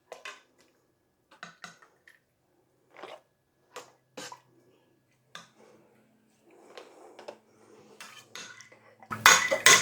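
A metal ladle clinks and scrapes against a pot of bean and bacon soup in several separate bursts, then a louder sloshing pour of liquid at the end.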